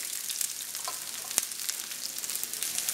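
Onions hiss and sizzle in hot soy oil in a pan, a steady close crackle with one sharp clink of utensil on pan partway through.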